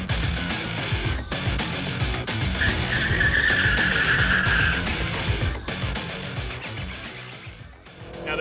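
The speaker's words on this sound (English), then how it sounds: "We get a chance to drive these cars down the drag strip" A loud modified Chevrolet manual-transmission car engine roars continuously while accelerating down a drag strip at Las Vegas Motor Speedway, with a brief tire squeal in the middle, close and powerful, with no talking.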